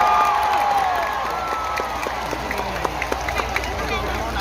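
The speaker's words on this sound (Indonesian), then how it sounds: "Yang terakhir harus kenceng tepuk tangannya, Zahid Mania." A crowd at an Islamic sholawat religious gathering in Taiwan claps in scattered bursts that grow more distinct toward the end, mixed with crowd noise and voices.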